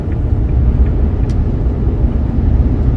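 A Jaguar X300 XJ6 saloon cruises along the road with a steady low engine drone and rumbling tyre and road noise, loud and continuous from inside the cabin.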